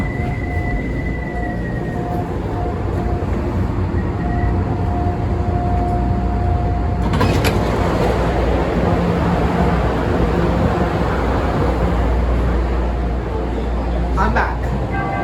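A Chicago CTA Blue Line train, car 3329, rumbles loudly from inside the car, with a steady low roar that swells sharply partway through as the ride picks up, a faint tone sounding early on.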